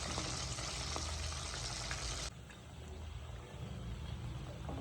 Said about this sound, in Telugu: అందుకని మీడియంలో పెట్టుకొని వేయించుకోవాలి